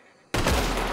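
Rifle volley from a firing squad in the video game RedM, a single loud simultaneous crack that bursts out after a quiet lead-in and rolls into a sustained echoing rumble.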